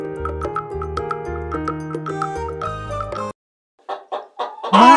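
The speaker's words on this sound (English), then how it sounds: "Nice hen." A hen clucks in a few short, close bursts after a cheerful musical jingle ends, then gives a louder squawking cackle.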